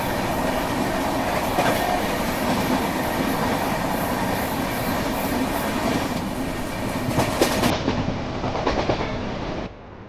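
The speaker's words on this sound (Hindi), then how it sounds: "और यहाँ पे हमारी क्रॉसिंग हो रही है कन्नूर त्रिवेंद्रम जनशताब्दी एक्सप्रेस के साथ।" The Trivandrum Rajdhani Express crosses the Kannur Trivandrum Jan Shatabdi Express in Kerala, with a loud, close rush of passing coaches, rhythmic clickety-clack of wheels over rail joints, and faint wheel squeal before the noise abruptly drops.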